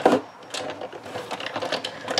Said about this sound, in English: I want to go ahead and die cut this on my Big Shots